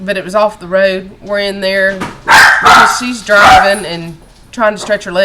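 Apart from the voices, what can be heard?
dog barking indoors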